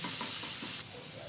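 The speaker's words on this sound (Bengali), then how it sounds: "আদা রসুন আর লঙ্কাকে ফাইনালি চপ করে নিয়েছিলাম এটাকে দিয়ে দিলাম এবার এটাকে ভালোভাবে আমি এটা ভেজে নিচ্ছি" Chopped ginger, garlic and chilli fry with onion in a pan of shallow oil for a fish egg curry, giving a close, steady hiss and sizzle that drops in level abruptly partway through.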